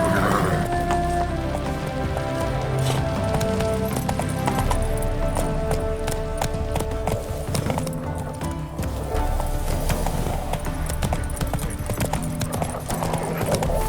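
Roach, Geralt's horse in The Witcher 3, gallops at length with a brisk, rolling clip-clop of hooves, close and loud, over a faint patter like rain and an occasional whinny.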